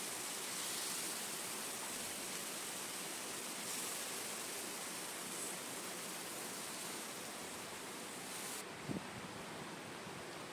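Remaining chicken pieces frying in a pan for butter chicken, a steady broadband sizzle that holds evenly throughout, with a brief knock near the end.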